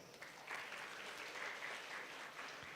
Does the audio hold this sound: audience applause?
yes